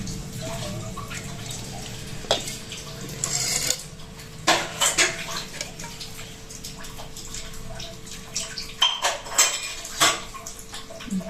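Rice flour, grated coconut and sugar are mixed by hand in a metal vessel, giving soft, steady rubbing and scraping with occasional clinks against the pot, fairly quiet throughout.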